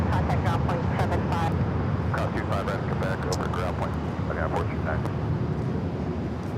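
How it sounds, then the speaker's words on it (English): United Airlines Boeing 737-900ER jet taking off at LAX for Washington Dulles, a steady broad engine roar holding throughout with people talking over it at times. "That is United Airlines 2667 taking off to Washington Dulles on the"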